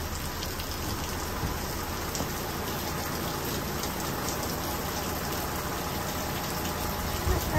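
Steady, dense rain falling on a surface, a constant hiss with no pauses throughout, fairly close and even in loudness.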